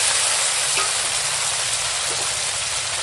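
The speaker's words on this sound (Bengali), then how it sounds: "আর এখন দিয়ে দেবো জিরে ফোড়ন আর তেজপাতা, আর দিয়ে দেবো এখানে আছে টমেটো কুচি, কাঁচা লঙ্কা কুচি" Cumin seeds, bay leaf, chopped tomato and green chili frying in hot oil in a pan, a loud, steady, close sizzle that fills the whole stretch with no voices.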